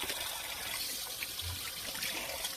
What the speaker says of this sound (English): start with washing the peppers in cold water,